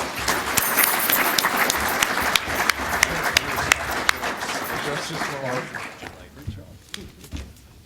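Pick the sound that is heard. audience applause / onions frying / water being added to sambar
audience applause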